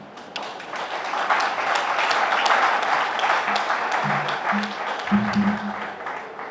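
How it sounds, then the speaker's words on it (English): An audience at a police hospital co-operative credit union meeting claps in appreciation, a continuous rush of many hands that swells slightly and then holds steady, with faint tones underneath. "let's give the person a clap and show some level of appreciation"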